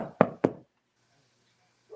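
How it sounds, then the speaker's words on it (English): Two sharp knocks on wood land in quick succession, close and crisp, followed by near silence and a faint sound at the very end. "I'm knocking on wood right now."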